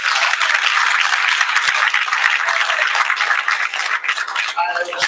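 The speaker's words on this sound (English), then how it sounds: "can we please give them another round of applause?" Loud, close applause from an audience for performers at a cultural event, dense clapping that runs on steadily, with a voice rising over it near the end.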